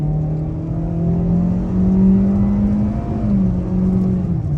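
A 2023 Kia Seltos LX AWD engine drones loudly from inside the cabin, its pitch climbing steadily as it accelerates, dipping briefly before rising again.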